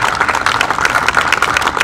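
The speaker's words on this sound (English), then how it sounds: "So a round of applause." Audience at a Wednesday night car club meeting applauding, a dense, steady patter of many hands clapping together, close and fairly loud for about two seconds.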